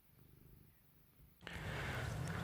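A cat purrs in a steady, low rumble, starting soft and then swelling to a loud, close purr for the second half.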